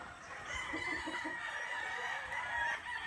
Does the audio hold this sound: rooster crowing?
yes